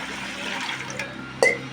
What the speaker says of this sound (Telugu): ఇలా గిన్నె తీసుకుని నీళ్లు పోసుకోవాలండి